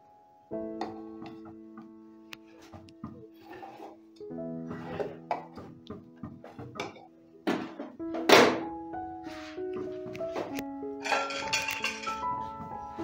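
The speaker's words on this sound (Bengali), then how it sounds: "এবারে বাটিটা বসিয়ে দিতে হবে" A bowl of cake batter set down inside a pressure cooker on a low gas flame, a series of close metallic clinks, thunks and scrapes in irregular bursts, no voices.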